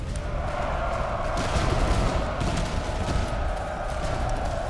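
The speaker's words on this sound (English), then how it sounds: "we still have loads of enemy cannons firing over here" Enemy cannons and massed fire boom across the battlefield of the video game Master of Command, merging into a steady, dense roar of distant gunfire with no distinct single shots.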